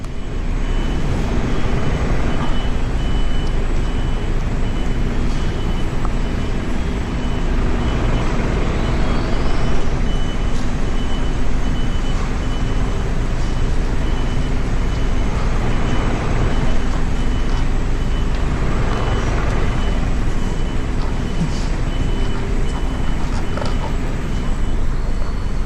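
A truck reversing slowly onto a landfill tipping area, its engine rumbling loudly and steadily throughout with a faint repeating tonal reverse beeper sitting above the drone.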